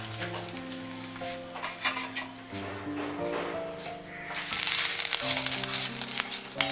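Prawns frying in a pan, with fried mustard seeds stirred in: a steady sizzle under clinks of a spoon against the pan, swelling into a louder, hissing fry in the second half.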